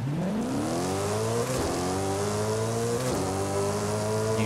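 A TVR Griffith with a roughly 1,000 hp V8 launching down a drag strip in Forza Horizon 5, engine climbing in pitch through two quick gear shifts, loud, close and steady with no talk.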